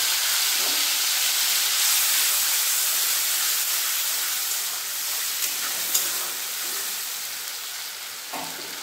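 Tomato paste hits hot oil with kalo jeera and green chillies, giving a loud, continuous bright sizzle and hiss that fades slightly over several seconds, with a few small pops.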